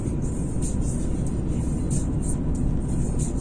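A car pulls along a road at night in fourth gear, a steady engine drone and road roar filling the cabin at close range, with the engine pitch holding fairly constant; no one talks.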